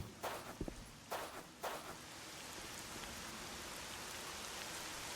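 Steady soft rain hissing in the background in S.T.A.L.K.E.R.: Shadow of Chernobyl, with a few faint thuds and steps near the start, quiet and continuous.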